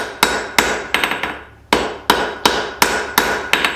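A blacksmith hammer forges a hot metal candle holder, thinning the stock on an anvil: loud, close, ringing strikes in quick groups, each blow followed by lighter bounce taps, with a short pause partway through before the rhythm resumes.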